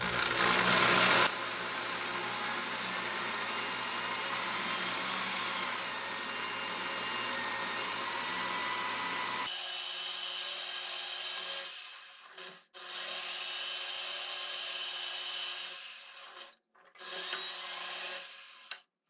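Electric drill boring into a bathroom wall to mount a grab bar, a steady grinding whine that shifts in tone partway through, then cuts out briefly twice before resuming, close and loud with no talking.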